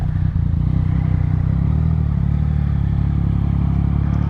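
A 2018 Yamaha MT-09 (FZ-09) sport motorcycle engine idles loud and close with a rough, throbbing rumble, blipping the throttle in short revs.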